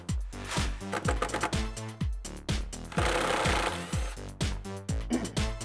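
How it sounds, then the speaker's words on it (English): A T50 Torx bit on an impact tool removing a bolt from a 2005-2014 Mustang coupe interior, heard as a loud, close series of rapid hammering bursts, roughly a dozen short pulses, with a longer sustained buzz in the middle. "We're gonna use a T50 Torx to remove this bolt."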